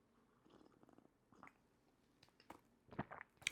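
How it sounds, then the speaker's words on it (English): Quiet, close-up slurping and sipping noises from a cup near the microphone, a few short wet sucking bursts growing louder toward the end, with no talking. "Can y'all hear me slurping on this mic?"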